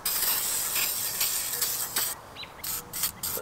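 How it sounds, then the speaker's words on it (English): A steady hiss of degreaser spraying from a can into a Mazda Miata valve cover runs for a couple of seconds, then breaks into short, separate bursts. "this degreaser, I'm just going to spray in here"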